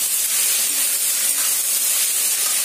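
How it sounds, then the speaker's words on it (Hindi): Onions fry in a pan toward browning, a loud, steady hiss of sizzling oil that stays even and unbroken throughout. "अब इसको ब्राउन लेने तक मैं फ्राई करूंगी"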